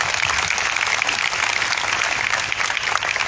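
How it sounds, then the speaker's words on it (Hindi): An audience at an evening prayer gathering in Balangir, Odisha, applauds steadily, a dense continuous wash of many hands clapping that fills the whole stretch without pause. "आइए इस खूबसूरत टीम के लिए हम ताली बजाएं"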